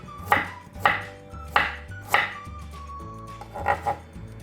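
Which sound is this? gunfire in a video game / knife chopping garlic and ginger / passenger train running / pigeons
knife chopping garlic and ginger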